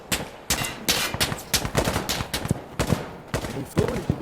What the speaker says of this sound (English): why do I keep hearing one of the guns?